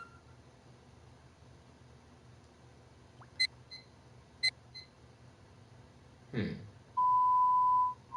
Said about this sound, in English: The censorship beep is too long.